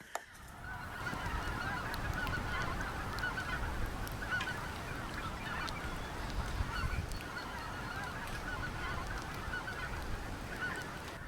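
A large flock of thousands of geese honks continuously from a distance in Minnesota, a dense, steady chorus of overlapping calls with no talking.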